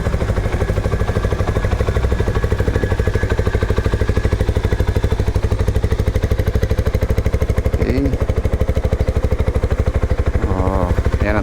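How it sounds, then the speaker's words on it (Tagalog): A Rusi Flash 150X V3 motorcycle's 150cc engine idles close by, a steady rapid even putter with a faint clink now and then, no voices. "pakinggan nyo na rin yung tunog ng makina"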